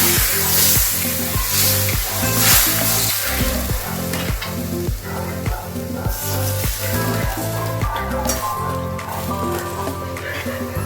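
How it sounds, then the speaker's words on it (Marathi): Hot masala gravy for stuffed bitter gourd sizzles and bubbles loudly and steadily as water goes in, close up, with a rhythmic pulsing beat of music underneath. "आता आपल्याला 1 वाटी किंवा 2 वाटी पाणी घालायचं आहे."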